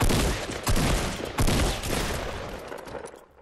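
Heavy gunfire in Fortnite Battle Royale comes as a dense, loud volley of rapid shots with a few sharper blasts, fading toward the end.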